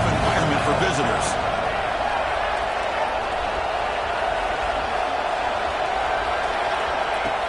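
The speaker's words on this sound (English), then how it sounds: "Listen to the crowd energy here in the early going." Steady roar of a stadium crowd in an NCAA 26 college football video game at Ole Miss, a dense continuous wash of cheering with no pauses.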